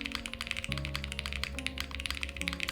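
Clicky mechanical keyboard with PE foam mod, keys tapped in a steady run of crisp, muffled clacks, close and alone.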